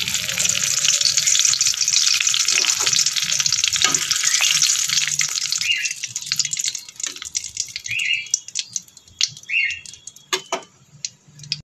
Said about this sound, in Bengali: এখন এই তেলে আমি তেজপাতা ফোড়ন দিয়ে দেব।